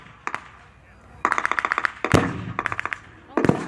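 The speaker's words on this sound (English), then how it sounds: "Really opening up with the 30 cal machine guns" Bursts of .30 caliber machine gun fire at a World War II battle reenactment in Crowle, rapid sharp cracks in several distinct volleys with pauses between, fairly close and loud against open-air background noise.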